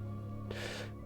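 A character in Hogwarts Legacy gives one short, breathy gasp or pant, rising quickly and fading within half a second over steady, sustained game music.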